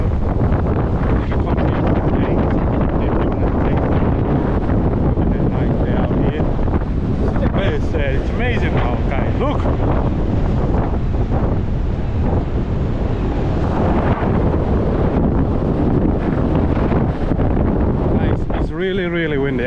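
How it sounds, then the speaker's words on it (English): Strong wind buffets the microphone in loud, rumbling gusts on Blackpool north beach, with surf faintly underneath and a voice speaking briefly. "Well, guys, it's really windy."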